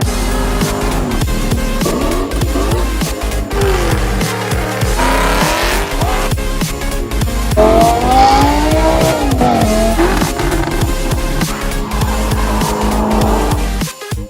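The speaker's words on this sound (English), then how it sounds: "Dude, it's so choppy. The sound is incredible." A loud, rumbling V8 engine of a 3-valve Ford Mustang GT with Ford Performance cams revving continuously with a choppy, lopey idle and rising and falling pitch, close by, with no talking.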